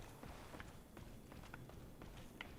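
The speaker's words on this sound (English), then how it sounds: "Sounds like someone somewhere is running against the wall." Running footsteps in Dark Souls, quick faint thuds in a loose rhythm, as if someone far off were running into a wall, quiet under a low ambient background.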